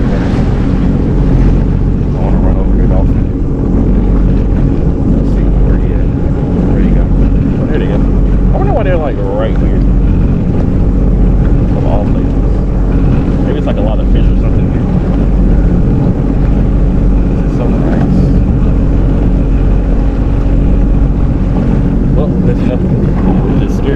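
A jet ski engine drones steadily while riding on open water where dolphins are around, a loud continuous motor hum with splashing and wind rush throughout.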